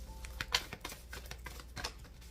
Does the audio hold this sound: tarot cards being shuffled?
yes